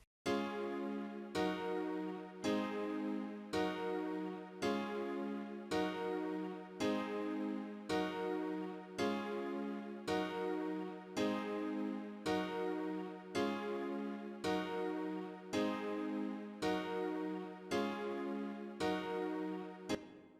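A synthesized chord from the Purity plugin in FL Studio repeats in a steady loop, about fourteen evenly spaced sustained hits, clear and alone with no voices.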